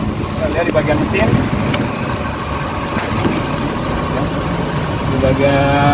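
A 2008 Chevrolet Magnum Estate's 1600 cc four-cylinder 16-valve engine idles with a steady low hum and faint vibration, close by and continuous for several seconds, while a person talks over it.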